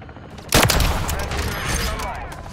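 A single loud, sharp sniper rifle shot in a Call of Duty match cracks out near the start, then decays into a lingering echoing tail with faint background game noise.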